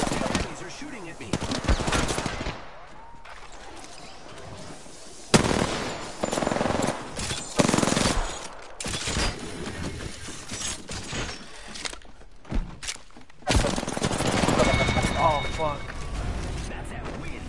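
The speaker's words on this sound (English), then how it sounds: "Enemies are shooting at me." Enemy gunfire in a PS4 shooter, with bursts of machine-gun and rifle fire coming in irregular loud volleys and pauses, mixed with game sounds and a voice talking at times.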